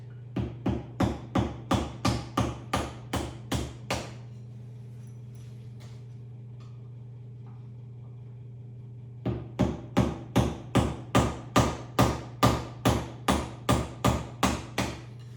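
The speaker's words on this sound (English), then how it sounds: "I'd rather get a screwdriver. Tap it out." A screwdriver is tapped with steady, evenly spaced metallic knocks to drive out an axle tube part, about nine strikes, then a pause, then another run of a dozen strikes over a low background hum.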